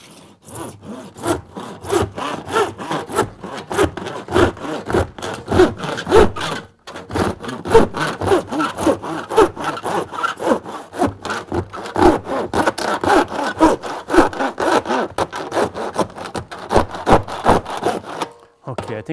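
A hand saw works steadily through a completely rotten wooden window sill coated in vinyl, giving a close, continuous rhythm of rasping back-and-forth strokes with one brief pause partway through.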